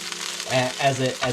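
Garlic and ginger sizzle in a hot pan as the base of a prawn curry, with a steady close frying hiss and bursts of louder crackle as the pan is stirred.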